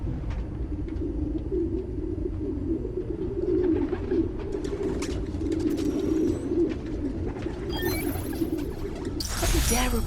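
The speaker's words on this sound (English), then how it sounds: "Place was swarming with pigeons." Pigeons coo in a park in the video game Spider-Man Miles Morales, soft repeated throaty coos from a flock over a low background hum, ending in a brief bright electronic burst.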